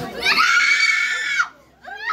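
A person in a folk-healer exorcism scene lets out one long, loud, strained scream lasting over a second, then a brief pause before another rising cry begins.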